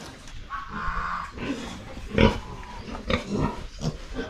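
Six farm pigs with an unusual coat colour tinged with gold grunt and snort in a series of short, fairly close bursts over a steady rustling background, with no talking.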